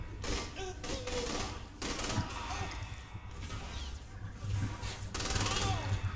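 Gunfire in the video game Saints Row 3 Remastered, a dense, continuous barrage of shots and crashes throughout, loud and close, with no clear gaps.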